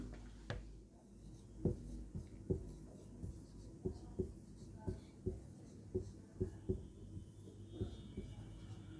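Chalk or marker writing a definition on a board during a Hindi grammar lesson, a sequence of short scratchy strokes and taps in an irregular rhythm, faint and close in a quiet room.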